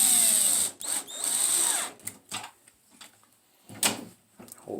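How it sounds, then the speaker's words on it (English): Cordless power drill tightening screws on door hardware, a loud whirring burst followed by shorter spurts and small clicks of the door fittings, close up with no talking. "I'm just going to use the drill to tighten the screws down"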